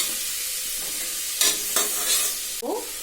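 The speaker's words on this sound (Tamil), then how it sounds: "வெங்காயம் வதங்கிடுச்சு." Onions sautéing in a pan with curry leaves for a mutton curry, a steady broadband sizzle with a few stirring scrapes and a brief utensil clink near the end.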